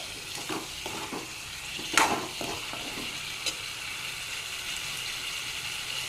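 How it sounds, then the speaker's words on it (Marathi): Mango kernel amti cooks in a pan with chili and salt, giving a soft steady sizzle with light stirring scrapes and one sharper clink, all fairly quiet and with no talking. "याला मी आता छान तिखट मिठामध्ये पाच मिनिट शिजवणार आहे"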